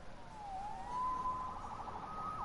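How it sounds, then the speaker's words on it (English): Police siren in the Spider-Man PS4 video game, a steady wailing tone that rises and holds, fairly loud and alone with no talking over it. "There's the answer. Siren."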